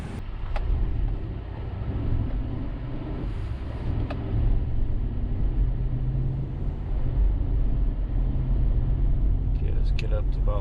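A Cadillac Escalade on a test drive gives a steady low road rumble and cabin drone throughout, with occasional light clicks from inside and a person talking over the noise.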